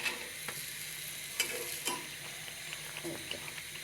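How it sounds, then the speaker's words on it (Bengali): Bengali oil pitha deep-frying in a wok, a quiet constant sizzle with occasional light clinks and scrapes of a utensil, no talking. "এখন আমি এরকম করে সবগুলো পিঠাই ভেজে নেব"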